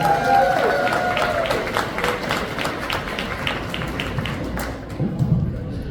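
A hip-hop event audience applauds and cheers. Dense, continuous clapping holds steadily for several seconds, with crowd noise underneath.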